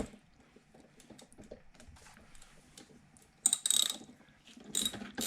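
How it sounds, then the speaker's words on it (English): Deep 5/8-inch socket wrench ratcheting on the spark plug of a Honda EU2000i generator, with quiet scattered clicks early on and then two louder bursts of close mechanical ratcheting. "I'd take a deep socket wrench"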